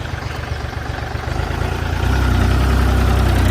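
A Kubota L3408 DI tractor diesel engine idles close by, a loud steady chugging rumble that deepens and grows slightly louder partway through.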